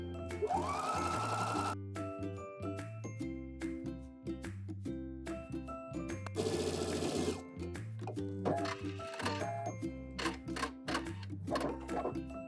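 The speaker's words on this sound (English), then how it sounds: "To sew up the side seam, we're gonna follow our chalk line and we're gonna blend right off into the arm." Sewing machine stitching a shirt side seam, with bursts of rapid mechanical clatter separated by short pauses, close and loud, with no voices.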